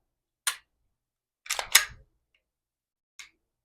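Dry-fire check on a Glock Gen5 pistol: one crisp click, then a quick pair of sharper clacks as the slide is racked to reset, and a final faint click, all close and isolated against silence.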